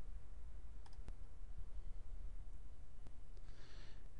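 A computer mouse is clicked while working on a line graph in MS Excel, giving a few sparse, sharp, faint clicks over a quiet background hiss with no talking.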